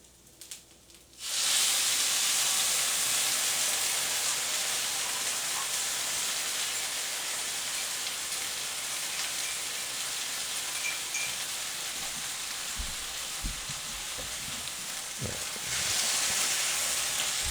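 Onions and ketchup sizzle steadily in a pan, a broad continuous frying hiss that starts abruptly after a quiet moment and holds at a constant level, with a few soft stirring clunks near the end.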